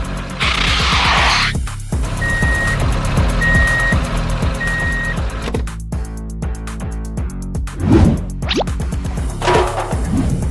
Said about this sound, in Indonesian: Sekarang giliran truk biru itu datang membawa material untuk membangun kembali semuanya.